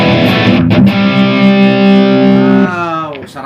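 An electric guitar played through an ENGL Powerball distortion amp model on a Lekato Tank G Black multi-effects unit, giving a loud, saturated sustained chord that rings and then fades in a short burst.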